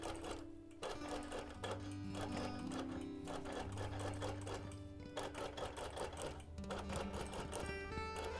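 Sewing machine stitching steadily as it bastes the right-hand side of a quilt, a continuous close, even mechanical whir with rapid needle clatter running throughout without pause.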